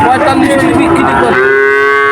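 Cattle at a rural cattle and calf market, one loud, close, drawn-out moo lasting about two seconds over faint crowd murmur.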